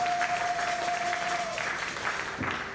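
A church congregation applauds steadily for several seconds, a dense, evenly paced clatter of many hands at close range, with a sustained organ-like tone underneath that fades midway.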